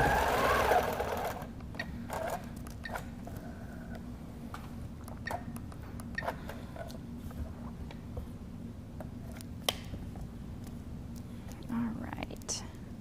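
A sewing machine fitted with a ruler foot stitches steadily through English paper piecing, a low continuous motor hum running under quiet, close talk.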